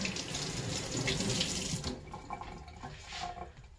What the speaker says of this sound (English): you just rinse it off to make sure you get as many of the little strands off as you can